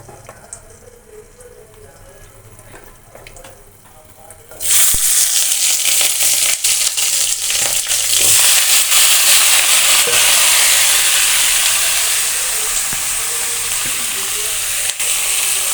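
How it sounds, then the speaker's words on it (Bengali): Vegetables hit hot oil with panch phoron in a wok and burst into a loud, steady sizzle after a quiet start, frying continuously with faint stirring scrapes and no talk. "এখন কড়াইতে সবজি ঢেলে দেব। সবজিগুলো ভাজি ভাজি করব আমি।"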